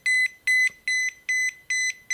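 An EMF meter beeping in a rapid regular pattern of short electronic pulses, about six in quick succession, clear and close.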